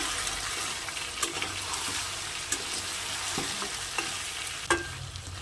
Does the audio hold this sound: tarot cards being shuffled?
no